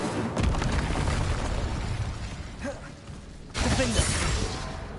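Incendio fire spell being cast in the Hogwarts Legacy video game: a dense, roaring burst of magical flame and booming impact amid ongoing combat noise, with a second loud surge partway through.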